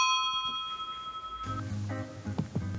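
Bike bell mounted on a homemade busy cube, a bright ringing tone that sustains and fades over about a second, followed by handling knocks and clatter.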